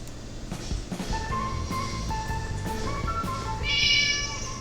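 Cat meowing in an After Effects animation, a few distinct meows over a soft musical background, then a bright sparkling chime near the end.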